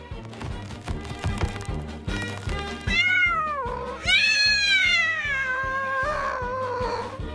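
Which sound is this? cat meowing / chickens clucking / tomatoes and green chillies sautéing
cat meowing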